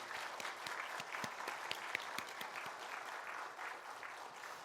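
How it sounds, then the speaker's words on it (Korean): A church congregation at a Sunday joint service claps warmly for honoured members, a continuous faint patter of many hands with individual sharper claps standing out, and no talk over it. "네, 다시 한번 박수 한번 보내드릴까요?"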